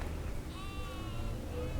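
A sheep gives a brief, fairly faint bleat, with a wavering cry heard over a low, rumbling background.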